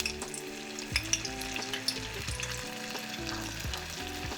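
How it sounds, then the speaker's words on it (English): Steady crackling sizzle of frozen vegan Vietnamese spring rolls frying three at a time in hot oil in a pot, a dense bubbling hiss with occasional sharper pops, close up and with no talking. "So I'm gonna fry 3 at a time in this pot."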